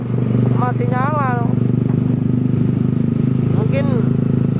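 Idling Yamaha Mio scooter engines left running at a town square, a steady low putter throughout with a voice talking over it.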